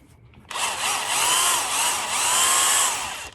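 A DeWalt 20V 1/2-inch cordless impact gun spins up in low gear with a steady, loud high-pitched motor whine that holds for about three seconds, rising slightly before cutting off, with no one talking.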